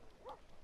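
A single short bark from a dog in Grand Theft Auto V, faint and brief, heard against a low background hiss.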